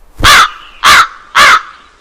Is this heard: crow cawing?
yes